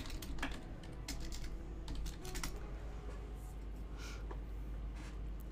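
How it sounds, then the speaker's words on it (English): Typing on a computer keyboard, a quick, uneven run of close key clicks over a low steady hum, with no talk. "I'll type in the chat for you and see if that helps."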